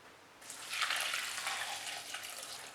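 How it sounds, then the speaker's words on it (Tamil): Water poured from a vessel over two cups of flattened rice (poha) in a bowl to soak it for vada batter, a steady close splashing and trickling that runs about two seconds with no talk. "மூழ்கிற அளவுக்கு தண்ணி சேர்த்து"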